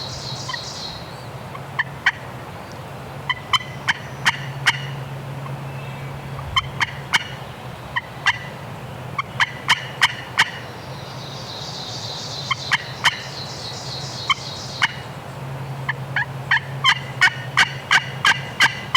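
Repeated wild turkey gobbles ring out outdoors during a hunt, some loud and near, others fainter in the distance, with soft calls and bird chatter between them.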